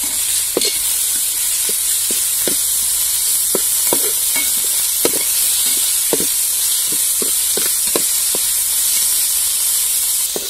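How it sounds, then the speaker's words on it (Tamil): Ginger garlic paste sautéing with onions in a pan, a steady bright sizzle with repeated sharp clicks and scrapes of stirring scattered throughout. "இஞ்சி பூண்டு அரைச்சி வச்ச விழுது அதையும் சேர்த்துக்கிறேன்"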